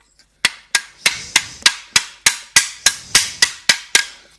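A hammer taps wood blanks down level on the bed of a copy-turning lathe, twelve sharp, evenly spaced knocks close up with a quick decay, no talking.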